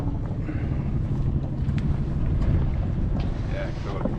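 A sailboat glides under sail alone with no engine running, wind buffeting the microphone and water rushing steadily along the hull throughout.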